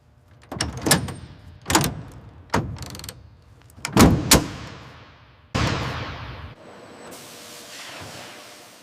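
Aircraft cargo doors under test in a plane factory produce a series of sharp mechanical thuds and clunks, spaced about a second apart, followed by a sustained hiss and a whirring slide toward the end.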